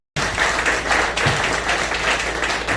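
Audience applause at a church training session on stroke, a dense, steady wash of clapping that starts abruptly and holds at an even level throughout, close and without speech.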